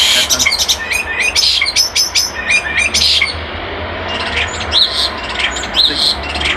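A recorded bird call repeats as sharp chirps and squawks in quick clusters, followed by softer, more scattered calls over a low steady hiss.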